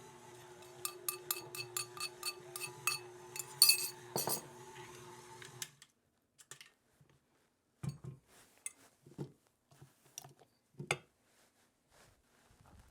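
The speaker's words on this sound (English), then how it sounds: "So this is the flour mixture. We're going to mix this in." A crumbly flour mixture for a 1940s wartime ration recipe is mixed in a bowl, heard as light clinks and taps of a utensil against the bowl, first rapid then sparse and quieter, close by.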